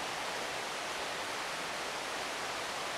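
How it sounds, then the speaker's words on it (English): The Polletts River on Cape Breton Island rushes right beside a mountain base camp, a steady, full broadband roar of flowing water that holds even and unbroken throughout. "And the river right next to us."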